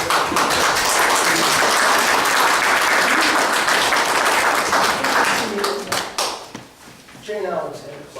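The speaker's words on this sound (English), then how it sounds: "I think that they deserve a round of applause for that" Audience applause at a town council meeting in Foster, a dense steady wash of clapping that holds for about six seconds before thinning into scattered claps under a few spoken words near the end.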